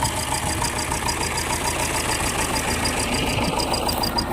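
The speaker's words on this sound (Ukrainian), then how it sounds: "Тяжковато цьому тракторцю, дуже тяжко, але реально обробити ось такий тип ґрунту." A T-25 tractor straining while ploughing long-unworked virgin ground, its engine droning steadily and loudly with a rapid knocking pulse throughout, heard close with no talk.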